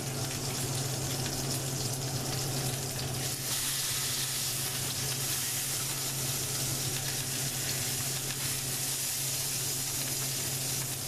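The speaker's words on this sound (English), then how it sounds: "I'm turning it up on its side right now because I'm trying to get the outside edges there seared in" New York strip steak seared on its edge in a hot cast iron skillet gives a steady, close sizzle and crackle with an underlying hum, continuous and even throughout.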